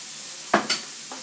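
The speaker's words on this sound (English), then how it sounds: "then stir in the broth and vermouth" Broth and vermouth stirred into a hot pan: a short liquid splash and sizzle, then a second brief stir, a faint scrape trailing off, all close and quiet with no talking.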